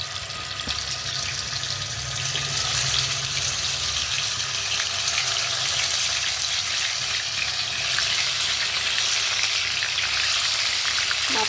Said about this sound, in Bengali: দেখুন তেল গরম হয়ে গেছে, এবার মাছগুলো ছেড়ে দিচ্ছি।